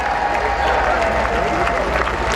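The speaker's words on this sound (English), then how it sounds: "Philip Robinson acknowledging the cheers of the crowd" A large crowd at Royal Ascot horse racing applauds and cheers steadily, a dense, loud wash of clapping and voices that holds without a break, with a commentator speaking over it.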